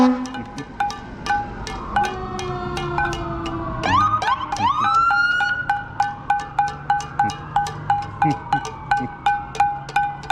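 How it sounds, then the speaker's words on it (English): Ambulance and police sirens pass during a street salute to front line workers in the Covid-19 crisis, wailing and yelping tones sweeping up and down, loud and close, followed by a rapid, regular pulsing siren pattern. "Here come the ambulances now."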